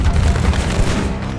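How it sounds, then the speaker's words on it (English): Heavy cannon barrage in a War of 1812 battle video game depicting the Battle of Lundy's Lane: dense, continuous deep booms rolling over one another at close range, loud and without pause. "But under a torrential barrage of cannon fire, casualties are steadily mounting."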